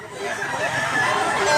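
Chickens and roosters at a poultry market in Mantalungon, Cebu, with clucking and crowing mixed into a steady crowd murmur, while someone talks nearby.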